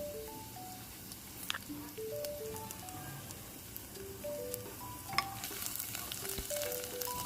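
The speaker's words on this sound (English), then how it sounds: "Heat some amount of oil in the pot and add the garlic." Garlic fries in hot oil in a pot with a continuous soft sizzle and a few stirring scrapes, while light music plays faintly in the background.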